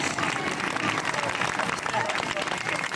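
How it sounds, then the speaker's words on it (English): An audience at a folk festival applauds in a dense, steady wash of clapping, with a bit of crowd noise mixed in. "Let's have a round of applause for Pliny, please."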